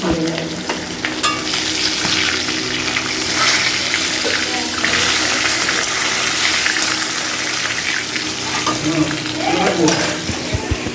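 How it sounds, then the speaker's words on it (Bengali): Bhetki fish head and tail fry in hot oil with a loud, steady sizzle and crackle, joined by stirring and running water from a tap nearby, with brief talk underneath. "ভেটকি মাছের মুড়োটা লেজাটা ভাজা হচ্ছে"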